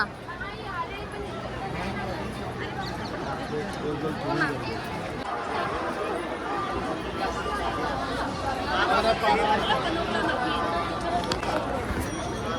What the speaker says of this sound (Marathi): इथे पण गर्दीच वाटते क्राऊड बघून.